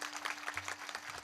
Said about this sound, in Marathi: सर्व वारकरी मंडळीसाठी जोरदार टाळी वाजवा.